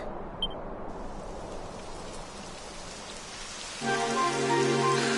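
Steady rain falls in a PS4 video game, a constant hiss that builds and turns denser and brighter toward the end, with no talk.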